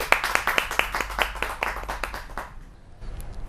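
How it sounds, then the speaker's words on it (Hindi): Audience at a Hindi poetry gathering claps to welcome a poet, a string of distinct sharp claps at a brisk rhythm for about two and a half seconds, then dropping to a quiet room. "जोरदार तालियों के साथ स्वागत किया जाए"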